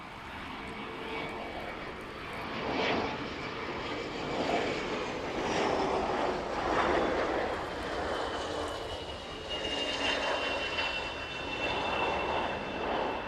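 An Atlas Air Boeing 747 cargo jet landing at East Midlands Airport in the evening, a steady, broad engine roar that swells and holds throughout with a faint whine on top, no voices.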